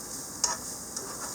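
Green onions sautéing in a pan give a faint, quiet sizzle with a couple of brief stirring clicks, heard alone.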